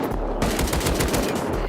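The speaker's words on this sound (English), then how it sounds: "Why are they shooting me already?" Rapid gunfire in the survival game Rust, a dense run of automatic shots with a few sharp single cracks, loud and close throughout.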